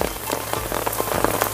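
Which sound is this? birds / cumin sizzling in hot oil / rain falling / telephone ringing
rain falling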